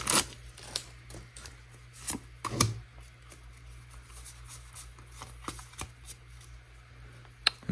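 Pokémon trading cards from Paldea Evolved packs are shuffled up close, giving crisp riffling flutters and sharp snaps that come in irregular bursts against a quiet background, with no talking.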